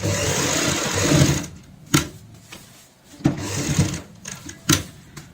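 A sewing machine stitches lace onto a designer cushion cover, loud close whirring runs broken by short pauses and sharp clicks as the fabric is repositioned.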